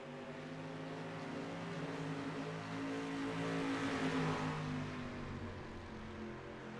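Stock cars in a dirt-track heat race run side by side late in the event, a steady, loud blended engine drone that swells slightly mid-clip without break.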